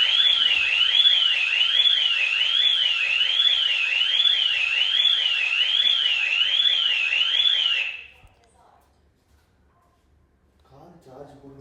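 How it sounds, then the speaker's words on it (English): A home security alarm, set off when a door was opened, sounds a loud warbling electronic siren for about eight seconds, then stops abruptly and leaves near silence with faint movement afterward. "My husband rang or didn't disable the alarm before he opened the door"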